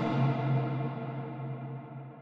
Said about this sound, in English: This is what we call reverb.